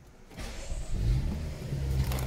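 A cold 2015 BMW 640i xDrive Gran Coupe starts by keyless ignition: a brief starter whir, then the engine catches with a rising flare and settles into a smooth, steady idle, close by and alone.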